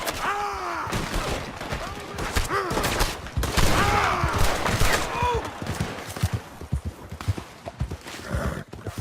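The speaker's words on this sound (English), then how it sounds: "Open fire on him!" Gunfire rings out in a Red Dead Redemption 2 horseback chase, with scattered shots over steady clopping hooves, neighing and shouting voices, fairly close and busy throughout.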